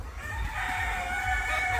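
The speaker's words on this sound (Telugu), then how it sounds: "సో ఇవన్నీ 1500 కోళ్ళు, నాటుకోళ్ళు షెడ్ ఇక్కడ పెట్టుకున్నారు" Country chickens cluck and a rooster crows in a short burst, with a low background rumble inside a busy farm shed holding 1,500 birds near Vizag.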